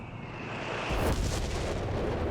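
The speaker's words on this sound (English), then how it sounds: "Another artillery barrage." Artillery barrage in Company of Heroes 3, a heavy booming blast swelling into a rumbling roar of explosions that fills the short stretch without any voices.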